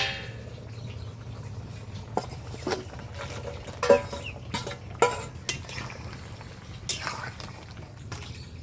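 Sundarbans crab goes into a simmering amra and ghati kochu curry in a pot: soft clinks, light splashes and bubbling sit over a steady low kitchen hum, with scattered sharper knocks.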